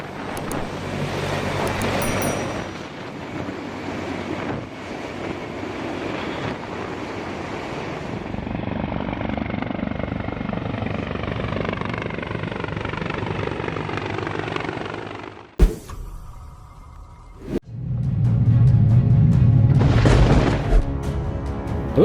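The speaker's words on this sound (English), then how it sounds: "This version of the Sikorsky helicopter can easily carry over 16 tons of cargo" A Sikorsky transport helicopter's heavy rotor roar and engine whine fill the air continuously, with a sharp thump and brief drop near the end before the loud rotor noise returns.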